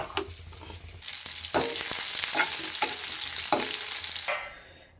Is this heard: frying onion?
yes